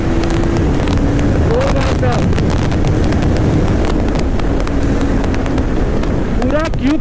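A 2024 KTM Duke 390 BS7 motorcycle accelerating hard through the gears with a quickshifter, a loud continuous engine roar with rising pitch sweeps under heavy wind noise, and a rider talking over it.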